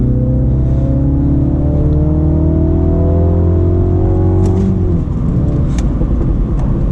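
A Mini Cooper JCW F56 with a Dinan Elite Stage 1 tune pulls hard in third gear. The loud, close engine drone climbs steadily in pitch for about five seconds, then drops sharply at the upshift and settles into a lower growl.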